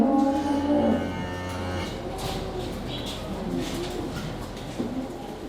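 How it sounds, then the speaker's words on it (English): Dairy cows in a milking shed, one cow lowing loudly near the start with a long moo, then general shed clatter and faint bird cooing in the background. "Those cows be milked and then we swap them over as the cows come in"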